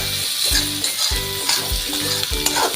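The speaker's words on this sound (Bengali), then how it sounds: "সব মশলাগুলোকে দিয়ে দেবো, দিয়ে ভালো করে কষাবো।" Spices and ginger paste fry in a pan for a kochur loti and prawn dish, a loud continuous sizzle with a regular rhythm of stirring scrapes, close up and without any talking.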